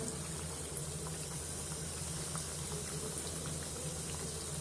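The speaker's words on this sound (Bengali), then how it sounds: "এই যে দেখেন পিঠা এখন ভেজে নেওয়া হচ্ছে।" Chicken samosa pitha fry in a pan of oil with a steady, soft, continuous bubbling sizzle. It is fairly faint and even throughout, with no voices.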